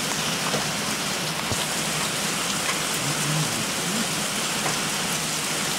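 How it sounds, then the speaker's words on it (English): Steady rain pours onto a porch and its screen during a big mountain rainstorm, a dense continuous hiss with scattered drip patters, close and fairly loud throughout with no talking. "it's raining on the screen. Raining on the porch."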